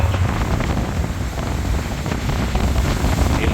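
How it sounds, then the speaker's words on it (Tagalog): Rough sea waves wash around a motorboat out on open water, a loud continuous rushing and churning mixed with wind buffeting the microphone. "Very rough seas."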